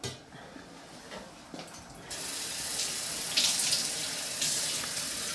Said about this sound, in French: il faut y ajouter de l'eau parce que ça serait tout concentré